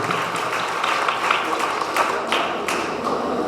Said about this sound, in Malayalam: എല്ലാവരും അറിഞ്ഞു കൈയടിച്ചേ.